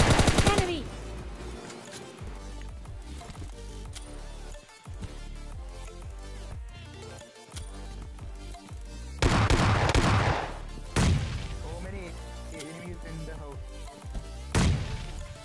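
Gunfire from players fighting in a video game: sustained rapid bursts of automatic weapon fire, some distant and some closer, with louder flurries near the end, with talk going on over it.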